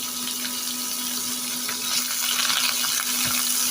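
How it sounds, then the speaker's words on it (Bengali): About a cup of chopped onions fries in a pan with whole panch phoron spices, giving off a steady, even hiss of sizzling oil that holds unbroken and fairly close throughout, with no talking. "এই পেঁয়াজগুলো যতক্ষণ না ব্রাউন কালার হয়ে আসছে ততক্ষণ আমি ভেজে নেব"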